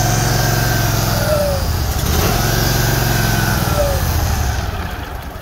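A cold grain truck engine running rough, a loud close rumbling idle with an uneven pulsing beat, steady for several seconds before easing slightly at the end.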